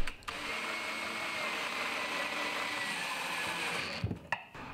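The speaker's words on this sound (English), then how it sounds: "I secured these together with pocket hole screws" A power drill driving pocket hole screws into the wooden frame of a built-in bookshelf, a continuous whirring buzz that stops abruptly near the end, followed by a few clunks and short bursts.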